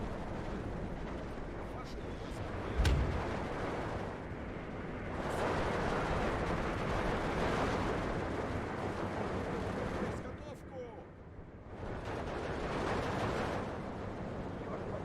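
Bomber dropping heavy 1,000 kilogram bombs in the Steel Division 2 war game, producing a sustained rumbling roar of explosions with a sharp blast near the start and swelling, distant-sounding booms that rise and fall.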